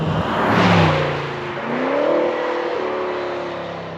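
A 575 hp Range Rover Sport SVR launches hard, its engine note climbing through the gears with a brief dip at a shift, loud and close with no talk.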